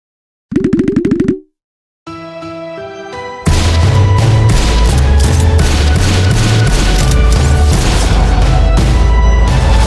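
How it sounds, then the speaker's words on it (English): Gunfire effect from a Roblox game: after a brief musical intro, loud, rapid, evenly spaced shots pound continuously over the music. "right before the gunshot starts playing, he actually will pull out a gun and then actually shoot"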